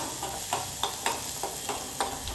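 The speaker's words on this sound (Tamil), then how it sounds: "இஞ்சி அஞ்சாறு பல் பூண்டு இதுவே நல்லா வதக்கிக்கலாம்" Ginger, garlic and onion sautéing in a pan on low heat, with a soft steady sizzle broken by regular scraping strokes of a spoon roughly every half second, close and moderate in level, no voices.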